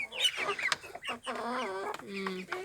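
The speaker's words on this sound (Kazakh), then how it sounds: "Міне мынау қара тауық." A black Kazakh farmyard hen clucks close by in a run of short, throaty calls that rise into a longer drawn cackle, with other fowl and a faint voice in the background.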